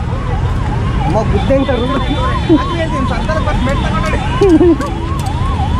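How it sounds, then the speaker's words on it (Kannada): An ambulance siren wails in a repeating rising-and-falling pattern through heavy, jammed traffic on a Bangalore road, steady and fairly loud, with people talking and engines rumbling around it. "ಆಂಬುಲೆನ್ಸ್ ಬಂತು ಫೈನಲಿ"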